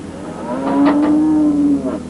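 A dairy cow on a farm lets out one loud, close, drawn-out moo that swells and holds before trailing off, with no talk over it.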